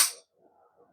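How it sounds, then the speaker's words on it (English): Beretta 92FS pistol dry-firing in double action: one sharp, close metallic snap of the hammer falling, followed by faint soft handling sounds, with no talk. "Now I'll show you the double action. It's a heavy, long pull"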